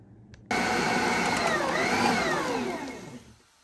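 A food processor blending cookie dough with almond paste for rainbow cookies: the motor switches on abruptly with a loud whirring drone, holds steady with shifting pitch as the dough churns, then winds down near the end.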